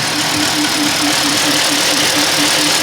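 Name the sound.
car engine running with pump hum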